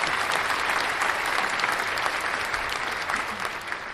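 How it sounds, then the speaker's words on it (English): Steady, dense applause from a crowd, played as a sound effect during a live news stream, holding at an even level throughout with no pauses. "Brian, where's our round of applause for Glenn?"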